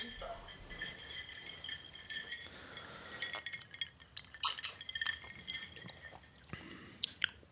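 Ice cubes clink and tinkle against a glass of bottom-shelf whiskey on the rocks, a series of light, close, sharp chinks scattered over several seconds, with faint liquid sounds and people talking quietly in the background.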